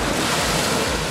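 Ocean waves at the beach, a steady close wash of surf with wind noise buffeting the microphone, brief and continuous with no voices.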